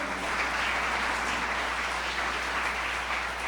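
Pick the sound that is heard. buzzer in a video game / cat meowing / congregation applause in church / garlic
congregation applause in church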